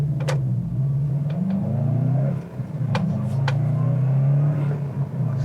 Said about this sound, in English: You can even hear the turbo blow-off valve noise, and that's a stock noise.